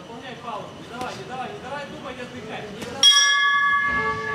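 A bell marks the end of the first round of a boxing match, one sharp clang ringing out and lingering after an announcer's busy commentary.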